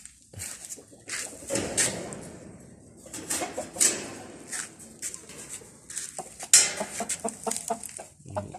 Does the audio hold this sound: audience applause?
no